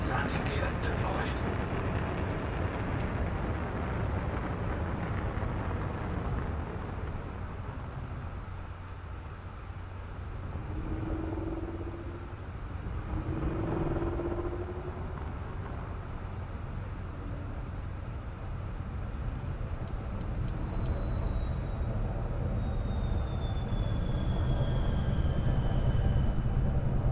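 Spaceship touching down in Elite Dangerous, a steady deep engine rumble and hiss with faint tonal whines drifting over it, sustained and fairly loud throughout.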